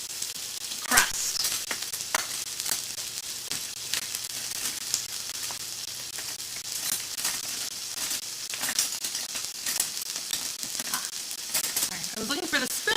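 A steak searing in a hot pan gives a steady, close sizzle with scattered crackles and pops, running the whole time with only faint voice traces.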